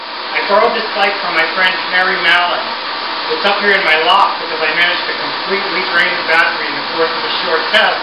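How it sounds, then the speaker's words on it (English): Cooling fan on the charger of a Brammo Enertia electric motorcycle whirs steadily and close in an indoor loft, a constant airy hum running beneath someone talking throughout. "The noise you hear is a fan that cools the charger."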